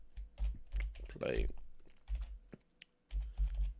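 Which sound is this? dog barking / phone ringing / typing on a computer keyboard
typing on a computer keyboard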